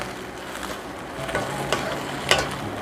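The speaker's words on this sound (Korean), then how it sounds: "그래서 이거를 고추 먼저 볶아줍니다." Shishito peppers stir-fry in a pan for a Korean anchovy side dish, giving a steady low sizzle broken by a few scraping stirs of a utensil, heard close and without voices.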